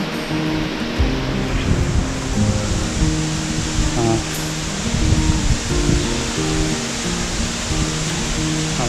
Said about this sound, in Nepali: झर्नाको विशेषता त्यही हो होइन, कुलरले पानी फाले जस्तो